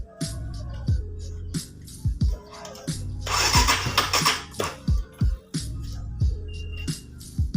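A Honda Sonic 150 motorcycle with a weak battery cranks repeatedly in short, laboring starter bursts, then briefly catches and roars before dying, followed by more sluggish cranking attempts, close and loud with no talking.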